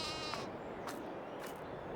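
Sheep bleating inside a livestock barn in the video game Farming Simulator 22, several overlapping bleats from a flock, moderately close over a steady ambient background, with no talking.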